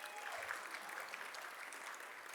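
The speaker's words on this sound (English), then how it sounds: "a big round of applause for our MC" Audience applause at an annual community celebration, an even, fairly faint wash of clapping that holds steady throughout.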